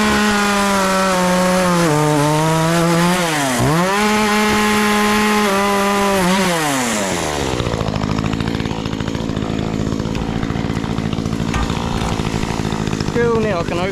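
An old Makita chainsaw cuts through fallen trees outdoors, loud and close, its engine wailing and dipping as it bites the wood, then settling into a rougher, lower labouring drone as the cut carries on.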